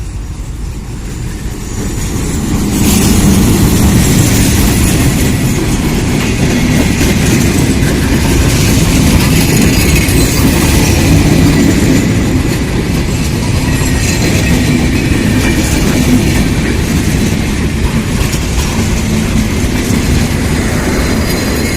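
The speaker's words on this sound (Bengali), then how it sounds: "আস্তে আস্তে ব্রেক করা হচ্ছে লোকোমোটিভের এবং ট্রেনের" A Bangladeshi express train hauled by locomotive 6544 rolls steadily along the rails while slowly braking, a loud continuous rumble with rhythmic clatter of wheels, close by and without voices.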